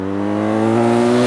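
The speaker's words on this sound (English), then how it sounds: "The engine sounds like a best sounding bike here." A heavyweight adventure motorcycle's engine runs loud and close with a steady, throaty drone that climbs slightly in pitch as it revs, with no talking over it.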